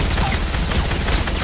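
Gunfire in a multiplayer shooting video game, a dense continuous burst of rapid shots filling the short stretch, loud and close, without talk.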